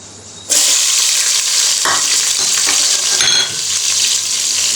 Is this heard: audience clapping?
no